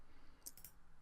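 A single quiet computer mouse click while working in a Revit Architecture window, a brief sharp tick in an otherwise near-silent room.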